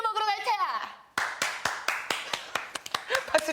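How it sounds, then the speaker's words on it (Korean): A small group of children claps along with a teacher before heading out to an all-you-can-eat meat restaurant. A voice comes first, then the claps follow as a loose string of sharp, close hand claps with no set rhythm. "박수 쳐."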